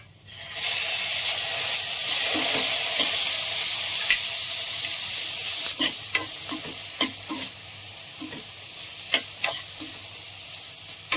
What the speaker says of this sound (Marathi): आता आपल्याला टोमॅटो एक 5 मिनिटं शिजवून घ्यायचं आहे